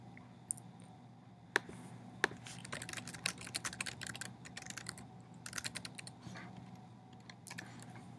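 Quiet close-up typing on a computer keyboard, a rapid irregular patter of light key clicks in short bursts with a few sharper taps, no voices.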